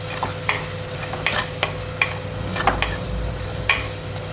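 Onions with salt and turmeric fry in a pot for mutton keema, with a steady soft sizzle beneath scattered scraping stirs and light clinks of the spoon against the pot, at close range and no talking.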